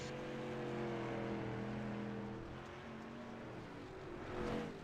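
Street stock race cars on a dirt oval in the iRacing sim, engines droning steadily at around 78 mph into the corners, a continuous layered motor hum that swells briefly near the end.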